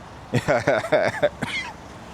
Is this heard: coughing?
yes